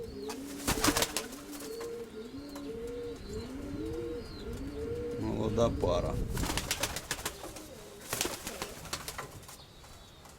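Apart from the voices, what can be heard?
steel white-tailed pigeons cooing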